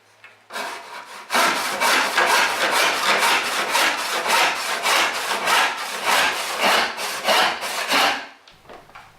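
A western backless saw cuts through wood in quick, even back-and-forth strokes, loud and near, with a steady rasping rhythm and no talking.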